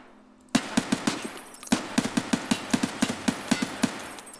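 An HK 416 rifle in Escape from Tarkov fires quick bursts of sharp, loud single shots in a steady rhythm, two short strings separated by a brief pause, about fifteen reports in all, near and with no talk.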